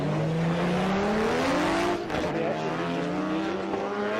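Drift cars cornering at Fuji Speedway during a Formula Drift Japan event, engines droning loudly at high revs with a rising pitch and steady tire noise, heard from close by without pause.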